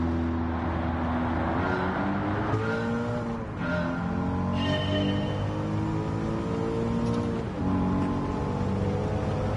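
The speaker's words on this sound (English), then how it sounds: "I still wish we had better car engine sound." A racing video game's car engine drones steadily with a strong buzzing tone that rises and dips as the car speeds up and slows, and brief tire squeals break through now and then.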